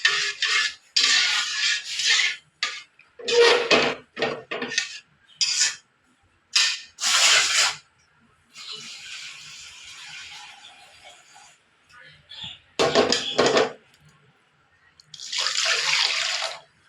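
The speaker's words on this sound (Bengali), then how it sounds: "দুবার করে ডালটা ভালো করে ধুয়ে নিয়েছি।" Mung dal, already fried, is rinsed and rubbed by hand in a bowl of water at a kitchen sink, making repeated splashing, swishing bursts with short pauses between them and a longer stretch of softer pouring water midway, with no talking.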